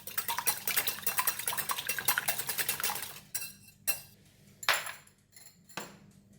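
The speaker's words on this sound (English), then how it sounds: "I'm going to just beat the egg first" An egg is beaten in a bowl for a tapioca cassava cake batter: about three seconds of fast, steady clinking of a utensil against the bowl, then a few separate louder taps. It is close and clear, with no talking.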